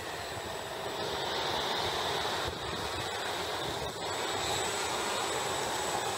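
A model airplane's engine running during a taxi test: a continuous loud, buzzing drone with a high whine on top, steady for the whole stretch, with no speech.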